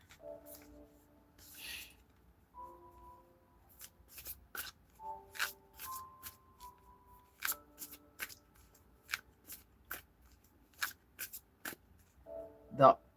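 Tarot cards shuffled by hand in repeated brisk riffling bursts, crisp and close, with a spoken voice intermittently between the shuffles.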